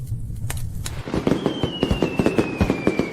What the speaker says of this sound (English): The firecrackers outside grew louder and louder